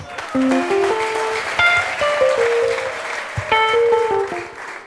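A church congregation applauding together in steady, sustained clapping that fills the room, with sung or sustained keyboard tones sounding over the applause.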